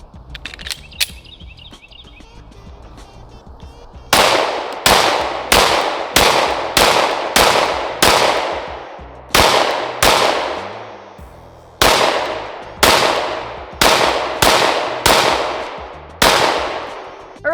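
Rifle shots from a Shadow Systems CR920XP fired through one final magazine at an outdoor range, loud sharp cracks in uneven bursts of two to six with brief pauses, each ringing out with a short echo tail.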